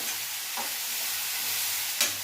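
Onion paste with a pinch or two of baking soda frying in a pan, a steady soft sizzle throughout with a couple of faint scrapes of stirring, no talk.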